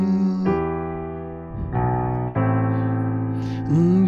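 Piano playing the chord progression of a song, four sustained chords struck one after another at a slow, even pace, close and clear with nobody talking.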